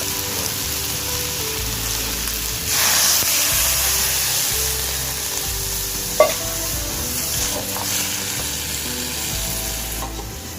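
Jackfruit and potato pieces frying in a kadai give a steady, close sizzle that swells briefly as water goes in, with a few faint stirring clinks and no talk.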